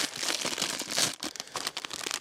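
Packets of biscuit-coriander and coriander-vanilla fishing groundbait crinkle and rustle close by, handled in a steady run of quick, dry crackles.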